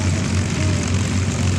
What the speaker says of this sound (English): you see the T-6 coming off of their ground-based holding position to come in and augment the pageant